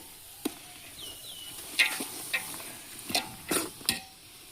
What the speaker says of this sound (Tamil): அடுத்தது நல்லா கிண்டி விடணும்.